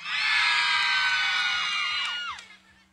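A crowd of young voices shouting and cheering together in a loud sustained roar that fades out near the end.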